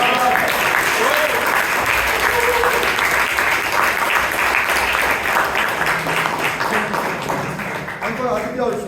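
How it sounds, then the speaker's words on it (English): Sustained audience applause at a Toastmasters meeting in Bangalore fills the whole stretch, a dense wash of many hands clapping at steady loudness with crowd noise underneath. "please give a huge round of applause"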